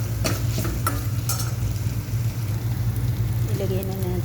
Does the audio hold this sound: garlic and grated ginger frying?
yes